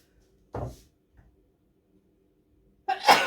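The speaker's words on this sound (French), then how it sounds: "Je vais éternuer." A single sharp sneeze bursts out near the end after near silence, preceded by a brief intake of breath.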